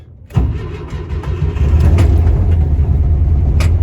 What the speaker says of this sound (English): this is start number 3 since the engine was cold.